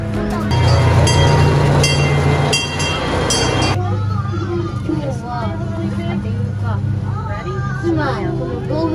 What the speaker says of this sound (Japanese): 今この動物園にある列車に乗ってズバーというのを一周します。